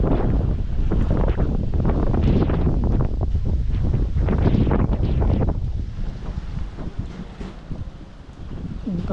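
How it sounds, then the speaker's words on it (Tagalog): Strong, roaring wind buffets the microphone continuously, a dense rumbling gust that eases slightly toward the end. "Ang lakas na po ng hangin."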